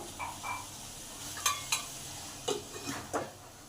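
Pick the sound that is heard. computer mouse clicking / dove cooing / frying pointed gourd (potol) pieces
frying pointed gourd (potol) pieces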